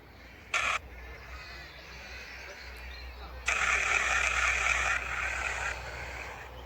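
Broadband static hiss from a spirit box ghost-hunting device in a graveyard, steady and fairly loud with a brief burst early on and a louder swell midway, over a low rumble.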